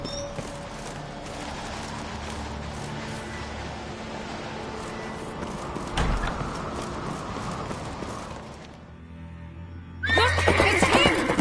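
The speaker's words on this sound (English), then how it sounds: "Grab a horse, we'll chase him down" Horse sounds from the video game The Witcher 3: Wild Hunt, with steady hoofbeats and movement beneath a continuous noisy bed, a sharp knock midway, and a louder burst of activity after a brief lull.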